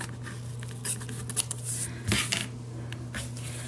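Scissors trimming strips of old book pages, a few short close snips and paper rustles at a quiet level, no talk.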